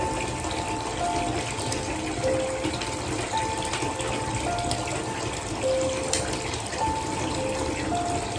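Water pours steadily from a tap into a bathtub as the bath fills, a continuous broad gushing rush with no voices.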